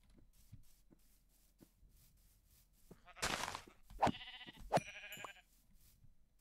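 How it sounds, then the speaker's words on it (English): Sheep bleat in the video game Minecraft, two or three wavering calls in quick succession, clear and fairly close over faint clicking game sounds, with no talk. "I got to kill some sheep."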